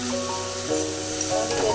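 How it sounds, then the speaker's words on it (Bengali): Ground cumin and red chilli powder fry in hot oil, giving a steady close sizzle with faint stirring throughout a short stretch. "জিরে গুঁড়ো দিয়ে দিচ্ছি, লাল লঙ্কার গুঁড়ো দিয়ে দিচ্ছি, দিয়ে আমরা কষে নিচ্ছি"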